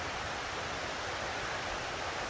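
Steady broadband rush of a snowmelt stream running below a mountainside in Andorra, a continuous hiss-like wash of water with no pauses, moderately loud and heard alone without voices.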